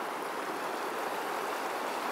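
Creek water flows steadily at the Parting of the Waters in Yellowstone, a soft, even hiss of running water, fairly quiet and unbroken over a couple of seconds.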